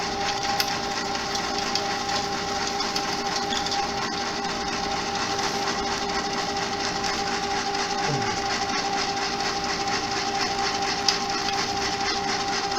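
An ice cream maker's steady mechanical churning hum drones throughout, with faint rattling and scraping of cold chocolate chips mixed into the continuous motor noise.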